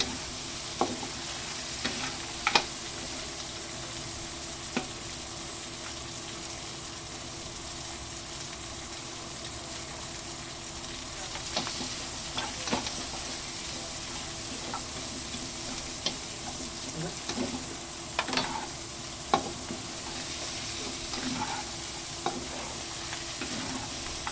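Chili and pork cubes fry in a pan with a soft, steady sizzle, broken by occasional spatula scrapes and clicks spaced through the whole stretch.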